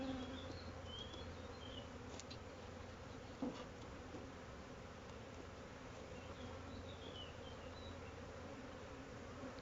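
Honeybees hum steadily around frames as mini hives are populated, a dense continuous buzz with a few individual bees droning close by, with no talk.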